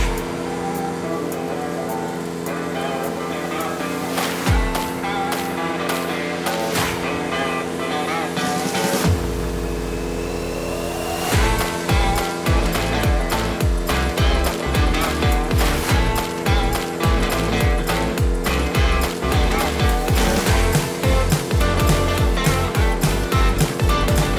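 A Ventrac MZ480 brush cutter runs on dual wheels, a loud steady engine and cutter hum laced with dense clattering and thrashing as it chews through brush, intensifying midway.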